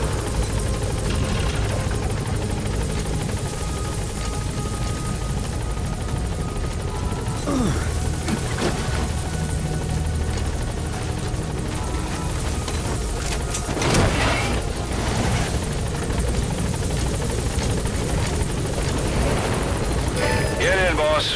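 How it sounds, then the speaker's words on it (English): Support helicopter arriving in the video game Metal Gear Solid 5, a loud, continuous rotor and engine roar that holds steady, with game voices and clattering action sounds mixed in. "Support helicopter has arrived."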